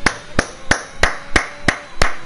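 Sharp, loud hand claps in an esports racing broadcast, seven evenly spaced claps in a steady rhythm, close and alone.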